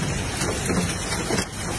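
Hail and heavy rain fall together in a dense, steady hissing patter that is loud and continuous throughout, with no talking.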